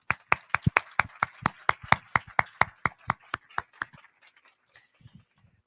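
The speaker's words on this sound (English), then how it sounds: "let's give a huge round of applause to the Grand Sierra staff who are taking great care of us this evening" Scattered clapping for hotel staff at a Grand Sierra gala dinner, roughly twenty sharp claps in a steady rhythm, close and fairly loud, then thinning out into a few faint claps.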